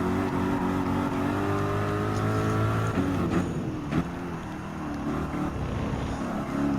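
Lexus RC F and Porsche GT3 race cars roar around a circuit in Gran Turismo 7, engines droning loud and steady with shifting pitch as they accelerate through the corners, with no talk over them.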